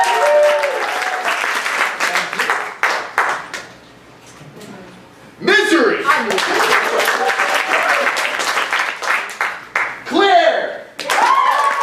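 An audience at a school STEAM exhibit poetry slam claps and cheers in bursts, loud and close, as an announcer calls out poets' names over the applause, with a short lull in the middle.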